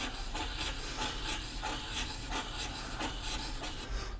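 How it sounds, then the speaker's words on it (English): A fountain pen nib tip sanded smooth on a flat abrasive surface, giving close, rhythmic rasping strokes repeated about every half second, steady and unbroken, without any voices. "We just basically sanded a flat surface into the tip of the nib."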